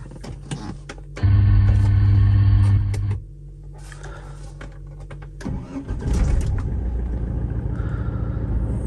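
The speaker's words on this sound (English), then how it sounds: "So as you can see, starting the car" Saab 9-3 engine starting, a brief starter crank and tick followed by a loud catch that settles into a lower idle, then revs up again into a steady mid-pitched running hum, with no talk.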